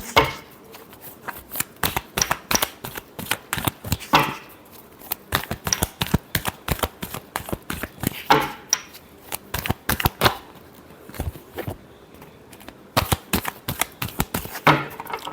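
Tarot cards are shuffled by hand in dense, rapid riffling bursts of crisp snapping clicks, close and fairly loud, with short pauses between runs and no voices.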